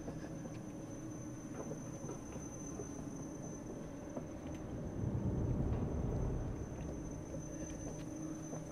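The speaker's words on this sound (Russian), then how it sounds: "Поезд с людьми кончился, я думал, он бесконечный." A train rolls past in the video game Inside, a steady low rumble with faint clicking that swells briefly in the middle and then settles, with no voices.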